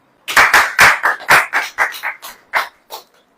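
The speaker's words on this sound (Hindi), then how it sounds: "ताली बजाओ।" Hands clap in a quick irregular burst of about a dozen sharp claps during a church sermon, loud and close, with no talk over them.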